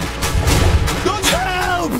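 Gunfire and grenade blasts in the real-time strategy game Iron Harvest, a short burst of heavy booming impacts followed by in-game voices calling out over the clamor.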